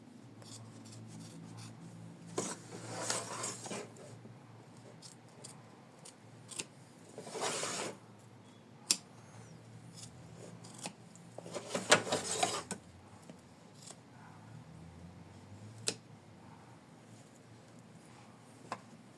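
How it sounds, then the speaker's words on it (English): Scissors trim around in-the-hoop machine embroidery on fabric for a tulip floral heart design: quiet, close snips and rasping cuts come in a few separate bursts between soft handling sounds. "So we trim it."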